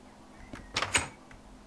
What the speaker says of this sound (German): Klopf, klopf.